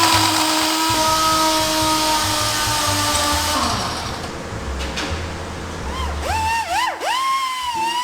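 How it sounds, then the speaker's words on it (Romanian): An electric mixer whirs loudly at high speed, a constant motor whine that winds down partway through, followed by wavering tones as the motor slows. "Mixăm compoziția la turație maximă 3 minute."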